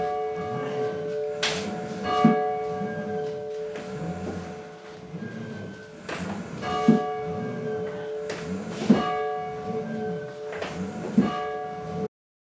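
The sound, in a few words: church bell ringing, Lac Qui Parle Church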